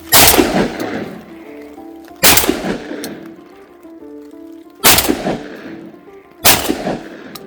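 A semi-automatic gun fired on Crown land in Canada used as a shooting range: four loud, sharp reports spaced a couple of seconds apart, each ringing out with a fading echo, with no talking.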